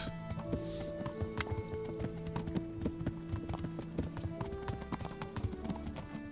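Horse hooves clip-clop steadily in a medieval video game setting, a quick, regular rhythm of close, crisp hoofbeats over game music, with a brief whinny.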